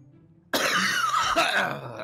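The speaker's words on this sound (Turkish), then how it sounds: "Öksürme." A single harsh cough bursts in after near silence, close and loud, rasping on for a moment with a throat-clearing quality.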